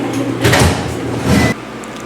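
A refrigerator drawer in a mountain cabin kitchen in California slides open and shut, with two short rumbling bursts of movement a second apart, fairly close and alone.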